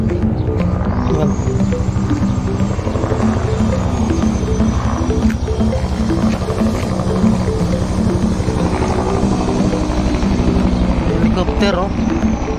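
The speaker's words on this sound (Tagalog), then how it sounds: "Helicopter, oh." A helicopter flies overhead near a residential tower construction site in Cainta, Rizal, a steady loud throbbing rotor drone lasting throughout with street noise around it.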